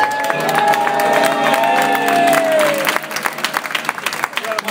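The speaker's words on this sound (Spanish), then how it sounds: "¡Un aplauso para Sergio!" A concert crowd at a tribute show in Alcorcón claps and cheers for a named fan. A sung or shouted voice carries over the close, lively applause, which continues steadily after the voice stops.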